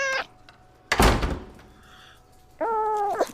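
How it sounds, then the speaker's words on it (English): A house door closes with a single solid thunk in the middle, between two short cat meows at the start and end, with quiet room tone in between. "the door just closed"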